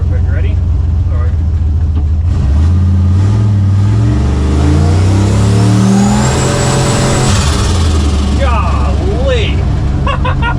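A Chevrolet C10 squarebody truck with a turbocharged LS engine swap accelerating hard at wide-open throttle on a back road, loud engine roar climbing through gears with rising pitch sweeps and a turbo whistle, close and dominant throughout.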